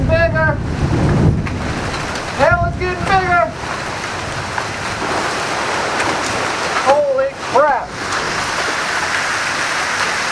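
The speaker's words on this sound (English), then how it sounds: "That's a lot of hail." Hail falls during a thunderstorm as a dense, steady patter and hiss, close and loud throughout, while voices talk over it at intervals.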